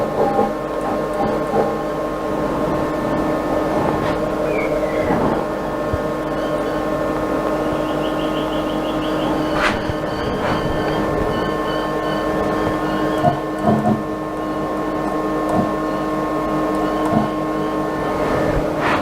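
A 6040 CNC router mills mini lathe parts for a 7x14 mini lathe, a steady loud droning hum with a sustained whine and occasional clicks and bumps running throughout, no talking.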